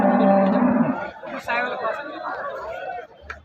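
A cow's low moo rises at the start amid the chatter of a busy crowd at a cattle market, with voices continuing afterward.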